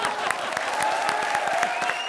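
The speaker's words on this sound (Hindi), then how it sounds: "तालियां तालियां तालियां" Studio audience applause with clapping over a steady tonal music bed at an awards-style stage segment of a comedy show, lively and continuous over a couple of seconds.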